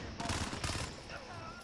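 The Fennec Vector submachine gun in Modern Warfare fires a rapid, loud burst of shots, a quick rattling volley that cuts off and then leaves a fading echoing tail.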